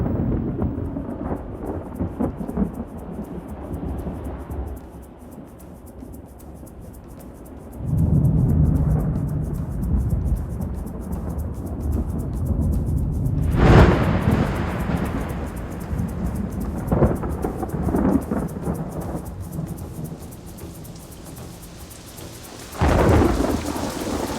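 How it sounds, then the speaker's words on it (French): A thunderstorm with heavy rain pours steadily on the ground, broken by deep rolling thunderclaps, one loud crack near the middle and another swelling rumble near the end. "Merci pour cette bonne pluie."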